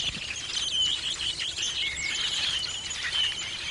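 Songbirds chirp and twitter steadily through the whole stretch, a dense outdoor chorus of high calls layered over faint insect buzzing, with no voices present.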